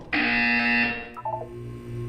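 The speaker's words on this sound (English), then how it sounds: "When you hear the buzzer, look down at the floor" A harsh electronic buzzer from the video game Portal 2 blares loudly for about a second, then cuts to a lower lingering hum with a few brief blips, with no voices over it.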